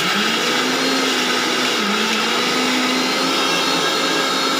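A small electric mixer grinder whirs loud and steady as it grinds a paste, a continuous motor drone that cuts off abruptly at the end.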